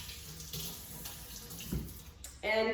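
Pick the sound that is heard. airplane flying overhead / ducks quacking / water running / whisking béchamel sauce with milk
water running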